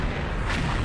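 A deep, rumbling explosion in the shooter game XSHOT fills the short moment, a dense low boom with no clear start or end.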